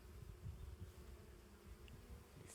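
A bee buzzes close beside the ear outdoors, a low continuous droning hum that wavers in loudness over a couple of seconds, faint overall and with no talking.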